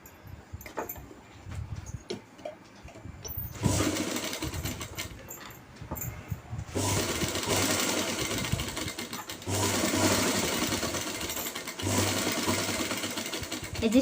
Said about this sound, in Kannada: ಎಜ್ ಸ್ಟಿಚ್ ಅಂದರೆ ಈ ಸೈಡ್ಗೆ ಸ್ಟಿಚ್ ಹಾಕ್ಕೊಳ್ಳಿ